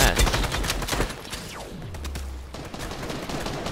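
Gunfire from a Fortnite match: rapid sharp shots in quick clusters, fairly near, mixed with a descending whoosh and game noise.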